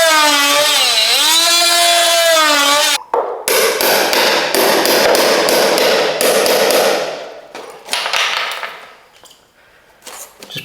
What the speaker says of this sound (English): I'm just going to use my multi-tool to cut along that line